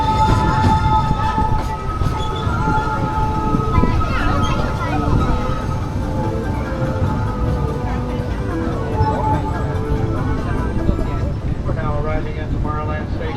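Disneyland Railroad steam train ride at Thanksgiving time 2024, a steady rolling rumble of the train with mechanical hums and tonal ringing throughout, a voice announcement playing over it.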